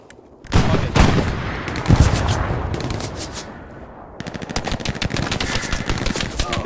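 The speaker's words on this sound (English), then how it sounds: "I'm in the middle of firefight." Dense gunfire of an infantry firefight in the World War II shooter Hell Let Loose, with loud close bursts and rapid automatic fire that intensifies into a continuous rattling barrage.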